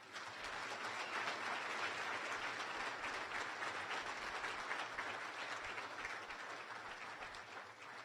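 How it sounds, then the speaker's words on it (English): Guests at the Iron Dog race banquet give a long round of applause, steady, full-room clapping that carries evenly and fades slightly at the close. "I'd like a big round of applause for him,"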